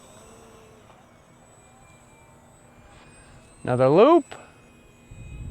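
A UMX Turbo Timber Evolution micro RC plane flies a loop, its electric motor whining in a brief, loud rising-and-falling sweep, with someone talking over quiet outdoor ambience.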